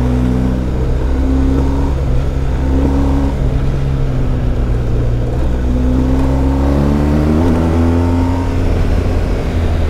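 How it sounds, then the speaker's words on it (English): Loud, close motorcycle exhaust revving through the gears on a mountain road tour, pitch climbing and dropping repeatedly with a steady rumbling drone underneath. "This exhaust does sound good"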